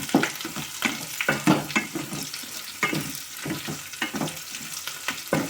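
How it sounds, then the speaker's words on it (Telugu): Curry leaves and tamarind frying in ivy gourd masala, stirred steadily in a pan: a continuous sizzle broken by repeated scraping strokes of the spoon, close and clear, with no talking. "ఇప్పుడు కొద్దిగా 2 రెమ్మలు కరివేపాకు, కొద్దిగా చింతపండు అండి, ఇవన్నీ కలుపుకొని బాగా ఫ్రై అవ్వాలండి"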